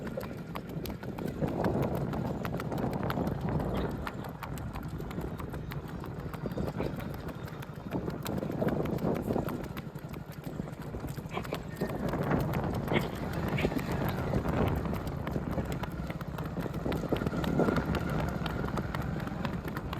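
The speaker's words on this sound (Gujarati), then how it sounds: "મિત્રો ઘોડીને આપણે રેવાલ હાલમાં ઉપાડશું તો હાલે." A mare's hooves clop in a fast, even revaal ambling gait, a continuous rhythmic patter of close footfalls with some wind noise.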